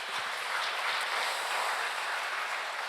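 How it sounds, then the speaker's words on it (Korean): A church congregation applauding during a worship service, a dense, steady wash of many hands clapping that holds at an even level throughout, with no talking over it. "놀라운 하나님께 감사의 박수 올려드리겠습니다."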